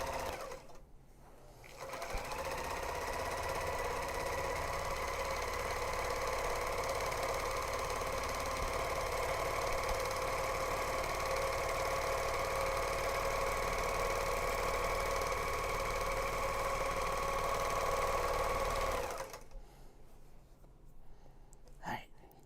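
A serger sewing machine runs steadily for about seventeen seconds, stitching grime guards, with a constant loud mechanical whir that starts and stops abruptly.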